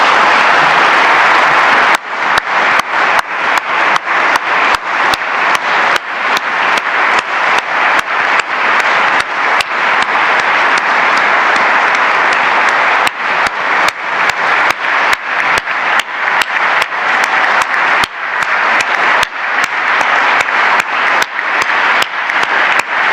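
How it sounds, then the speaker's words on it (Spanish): A crowd at the 25th anniversary commemoration of Mexico's SAT tax agency gives Raquel Buenrostro Sánchez long, sustained applause, loud and unbroken, with brief dropouts scattered throughout. "vamos a ofrecerle un aplauso a Raquel Buenrostro Sánchez"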